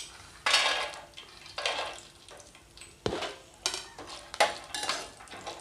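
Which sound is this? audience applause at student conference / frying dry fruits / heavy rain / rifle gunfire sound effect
frying dry fruits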